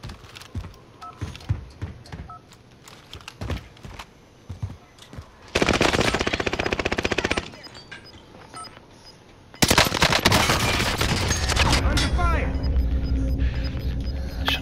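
Rifle gunfire in Call of Duty Warzone on Rebirth Island: scattered single shots early, then two long loud bursts of rapid automatic fire, with players talking between the shots.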